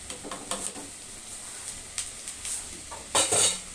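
Vegetables for brown fried rice being stirred in a pan after apple cider vinegar is added, with scattered scraping clinks and a soft sizzle, getting louder toward the end.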